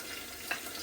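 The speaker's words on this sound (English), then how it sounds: "fry with the onions." Fish frying with onions in a pan, a soft steady sizzle with a brief faint spike partway through.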